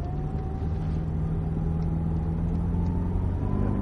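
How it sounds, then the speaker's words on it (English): A Cadillac CTS-V Coupe accelerates on track at Circuit of the Americas, its engine a loud, steady rumble from inside the car with a slowly rising tone and no talking. "Accelerating all the way through this corner, keep accelerating"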